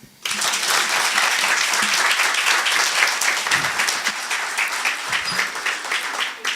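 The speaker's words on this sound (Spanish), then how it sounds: "les pedimos un fuerte aplauso" Dense, sustained applause from a conference audience at an Argentine university seminar rises sharply and holds at a steady, loud level for several seconds, with no voices over it.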